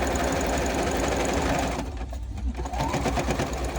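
Sewing machine stitching quilt pieces in a continuous chain for a puff quilt, a steady close-up motor whir and needle chatter that eases briefly midway, then resumes.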